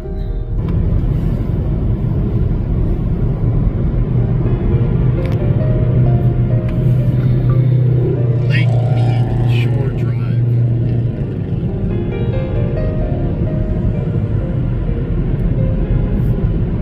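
A car cruising along a road toward Lake Mead through desert land, a steady low road rumble and engine drone inside the cabin throughout, with a voice talking over it.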